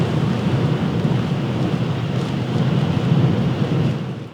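Storm Ciaran at night: a loud, dense roar of wind and heavy rain with deep rumbling thunder, continuous and close with no talk.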